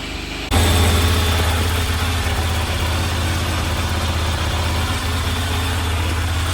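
An old Vespa scooter on a new battery and stale fuel fires up abruptly and settles into a close, loud, steady idle with a fast, even throb and no talking.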